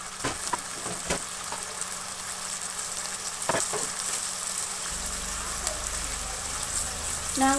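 Crab masala mixture frying in a pan, a steady close sizzle with scattered stirring scrapes and a faint voice in the background.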